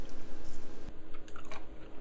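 Someone chewing thin, crispy homemade deer jerky, a steady run of close, loud crunches and bites repeating rhythmically with no talking.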